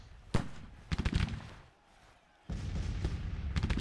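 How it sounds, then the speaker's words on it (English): Artillery fire in an American Civil War strategy game, several sharp booming blasts in quick clusters, a short lull, then a dense run of rumbling shots, loud and close. "Ah, we're getting hit by artillery here, I think."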